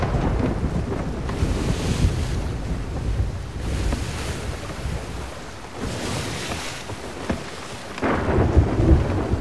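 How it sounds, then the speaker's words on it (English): A thunderstorm at sea in the video game Sea of Thieves, with steady rushing wind and crashing waves and rolling thunder swells, loud and continuous throughout. "I guess it's the storm."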